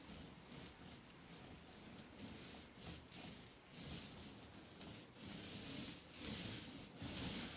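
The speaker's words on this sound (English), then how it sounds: "sealed foam roller, 1/4 inch thick. That helps to put the paint on as smooth as possible." Sealed quarter-inch foam roller spreading magnetic paint across a wall: a soft, continuous rubbing swish that swells and fades with each back-and-forth stroke, close and quiet, with no talking.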